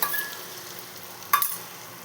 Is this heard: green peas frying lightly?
yes